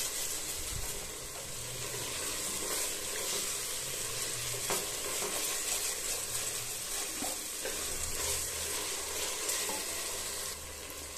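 Green chillies sizzle and crackle in a hot pan while being stirred for coriander rice, a constant close frying hiss with occasional scraping of the spoon.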